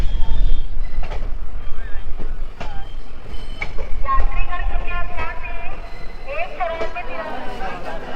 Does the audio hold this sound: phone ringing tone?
no